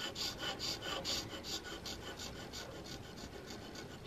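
Steel scraper rasping away background wood on a carved flintlock muzzleloader stock, a steady run of short, close scraping strokes in quick rhythm, alone without talk.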